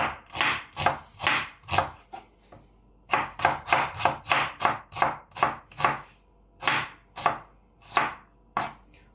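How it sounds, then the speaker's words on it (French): A knife slicing a red onion finely on a cutting board, quick rhythmic chops in bursts separated by short pauses, crisp and close with no talk. "Notre oignon rouge. Donc là, hop, lui on va l'émincer."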